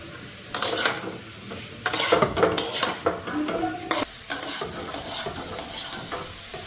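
Soybean masala spiced with chilli and cumin powder fries in a pan, its steady sizzle broken by repeated scrapes and clatters of a spoon stirring against the metal, with no voices.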